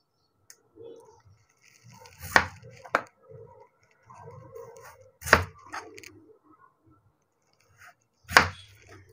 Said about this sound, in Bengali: এভাবে করে সবগুলো আলু এখন আমি কেটে নিব।